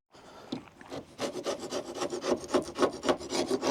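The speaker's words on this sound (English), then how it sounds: "let's give that a quick scrape off" Rhythmic scraping and rasping on a boat hull of a cheap old yacht, a steady run of rough strokes repeating about every third of a second, close and fairly loud with no talking.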